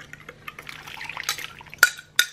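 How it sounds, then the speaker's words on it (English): A brown sugar mixture is poured over pork in a kitchen, with soft liquid splashing and pattering plus a couple of sharp clinks of a spoon or pan, quiet and close with no talk. "we're gonna pour this all over our pork"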